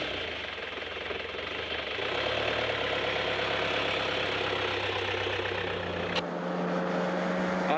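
A vehicle engine drones steadily while driving east across the Australian outback desert toward Alice Springs, a loud, continuous rumble with rattling, close by and alone, with a brief knock near the end.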